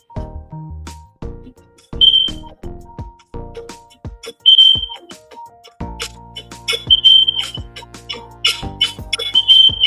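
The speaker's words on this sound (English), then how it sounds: "That fire alarm is killing me" A fire alarm chirps with short, high beeps repeated every couple of seconds, sounding over louder music and clattering indoor sounds.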